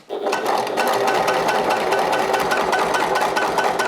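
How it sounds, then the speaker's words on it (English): A sewing machine stitches straight across the base of a triangle shoulder bag, giving a steady, rapid, close mechanical whirr with no pauses and no talking. "And then I'm going to stitch straight across the base with a centimeter allowance, and always start and finish with a back stitch."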